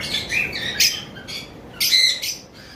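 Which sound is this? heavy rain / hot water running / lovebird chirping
lovebird chirping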